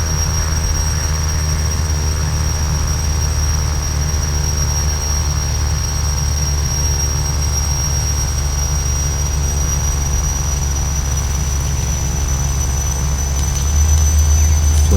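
A simulated Piper Malibu PA46T Jetprop taxis after landing in Flight Simulator X, its turboprop engine giving a constant steady whine and hum throughout, rising slightly near the end.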